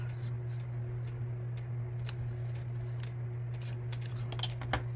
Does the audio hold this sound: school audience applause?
no